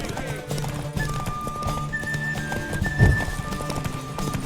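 Rhythmic clip-clop of horse hooves with a whinny in The Witcher 3, over game music and background chatter.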